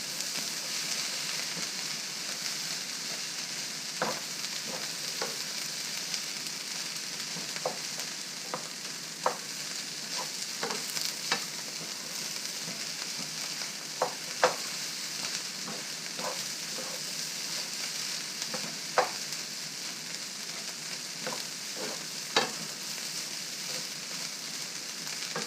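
Fried rice with sesame oil is stirred in a pan, a continuous sizzle broken by sharp scraping clicks of the utensil at irregular intervals, close and steady throughout.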